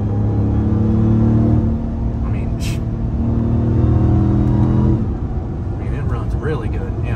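A 2023 Ram TRX pickup with paddle shifters drives in Mexico, its engine a loud, steady low rumble with gear-shift changes in pitch as people talk inside the cab.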